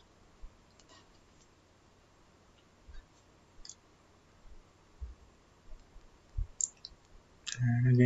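A computer mouse clicks repeatedly in EAGLE circuit design software, a scattering of small, sharp clicks at irregular intervals over a low background hiss, ending in a louder burst of handling noise.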